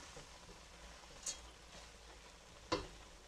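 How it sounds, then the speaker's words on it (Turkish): Rice being gently stirred and toasted in a pot for Turkish chicken and chickpea pilaf, a soft, faint scraping and rustling with two brief clicks of the spoon against the pot. "Şöyle güzelce harmanlıyorum pirinçlerimi kırmadan."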